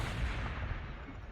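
Dense, continuous rumbling gunfire from the Warhammer 40,000: Sanctus Reach video game, a loud blurred barrage with no break.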